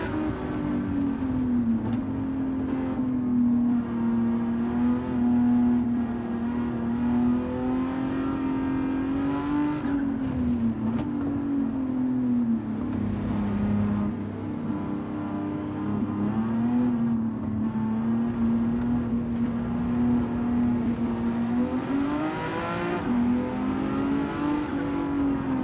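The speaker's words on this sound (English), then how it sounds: "This is a Mercedes V12, isn't it?" A Mercedes V12 engine in a racing video game drones continuously, rising and falling with throttle and gear changes, holding loud and smooth for the whole stretch.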